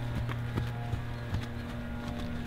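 Horse hooves clip-clop in a steady, even rhythm during an initiation to cordelette (neck-rope) training, close and clear with soft low background rumble and no talking.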